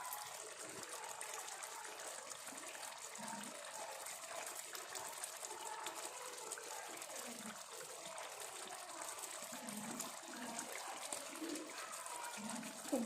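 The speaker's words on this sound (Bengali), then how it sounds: "আর একটু জল লাগলে পরে দিয়ে দিচ্ছি" Water poured into a cooking pan while making aloo borar dum, a steady gushing, splashing flow at low level that continues without a break through the clip.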